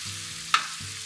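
Onions sautéing in butter in a pan, a steady low sizzle with one sharp utensil scrape or tap midway, brief and close, no speech.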